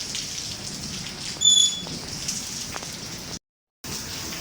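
Light steady rain falls in Karachi, a soft continuous patter close by with a brief louder splash, then a short dropout before the patter resumes.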